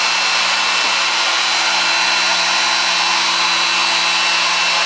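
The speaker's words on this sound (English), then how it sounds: "raise the router up and go run." A CNC router spindle runs and cuts on a Larken Automation machine, making a loud, steady high-pitched whine with a broad hiss that holds without a break throughout.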